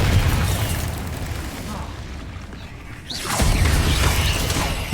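Confringo blasting spell in Hogwarts Legacy combat, a loud broadband blast swelling up about midway and then holding as a dense roar over continuous game battle noise.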